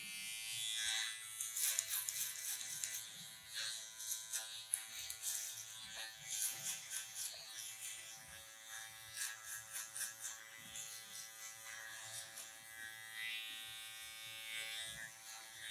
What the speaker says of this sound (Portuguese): E por fim, máquina de acabamento.